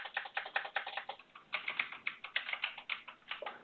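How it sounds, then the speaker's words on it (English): Someone types a password on a computer keyboard, a steady run of close, crisp key clicks with a brief pause in the middle, no talking. "I'm going to type in a password"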